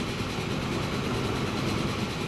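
A train in the Transport Fever game runs steadily, its engine giving off a continuous broadband rumble and hiss at an even loudness, with no pauses or talk.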